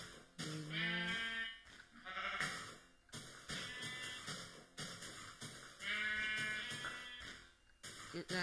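Sheep in the Minecraft video game bleat repeatedly in short, wavering calls, several overlapping bursts spaced across the stretch with brief gaps, clear and up front.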